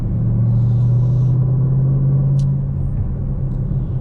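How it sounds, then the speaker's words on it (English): An LS3 V8 engine with a six-speed TR6060 manual transmission drones steadily as the car drives, loud and close, with a deep continuous rumble and no talking. "it sounds pretty good. LS3 V8 with the 6-speed TR6060 6-speed manual transmission"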